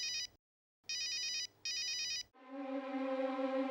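A telephone rings in two clear electronic bursts separated by short gaps, followed by a rising tonal note. The sound is close and fairly loud, with no voices.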